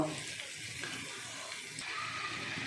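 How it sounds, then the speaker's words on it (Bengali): Ginger garlic paste frying in a pan for kosha mangsho makes a faint, steady hissing sizzle that runs continuously without talk. "আদা রসুন বাটাটা কষবো ততক্ষণ পর্যন্ত যতক্ষণ না ওর কাঁচা গন্ধটা চলে যাচ্ছে"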